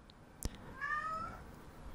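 A cat gives one short, faint meow in a quiet room, preceded by a brief soft click.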